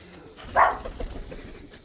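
A single Lahore pigeon in a coop gives a short, close coo, a brief rounded burst near the middle, with quiet room noise around it.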